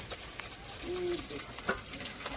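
Rupchand fish frying in a pan, a soft steady sizzle with light stirring and scraping noises and a brief clatter near the end, fairly quiet with no talking.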